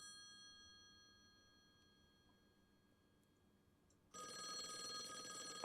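A phone rings inside the video game Call of the Elder Gods as a steady, sustained electronic tone for several seconds. It then gives way abruptly to a louder burst of broadband noise near the end.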